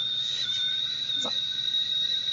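A steady high-pitched kettle whistle sounds continuously over a low background hum.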